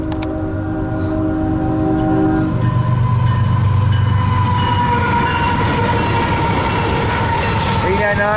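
A loaded CSX coal train rolls past at close range, a long steady rumble of heavy wheels and wagons with a train horn sounding early on, and brief voices heard under the noise.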